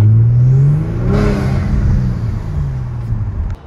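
Kia Stinger GT with aftermarket engine intakes, its engine revving loudly up and then settling into a sustained drone before cutting off, heard close and alone.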